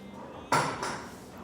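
Plum tomatoes tipped into a cooking pot for a simple tomato sauce, giving one sudden close splash-thud and a softer second plop a moment later against a quiet kitchen background.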